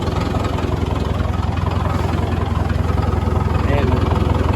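A Caterpillar 922 wheel loader's diesel engine idles steadily, a loud, continuous low rumble with a faint knocking throb running under it for the whole stretch.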